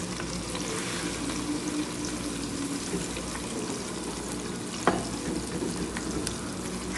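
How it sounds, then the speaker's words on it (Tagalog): Breaded cauliflower pieces frying in hot oil, giving a steady, even bubbling sizzle at moderate volume with a single sharp clink partway through. "ilagay natin ang enough na coated cauliflower sa ating mainit na mantika upang siya ay iprito natin"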